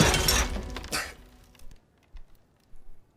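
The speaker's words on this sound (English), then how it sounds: "Oh, he smashed his glasses." A pair of eyeglasses in a Harry Potter film scene shatters with a sharp crack and brief tinkling burst, followed by a couple of soft thumps and scuffs.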